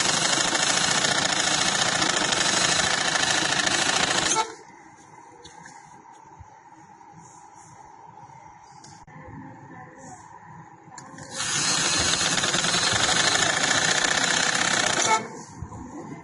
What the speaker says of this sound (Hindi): इसको मैं ऐसे सिलाई लगा लूंगी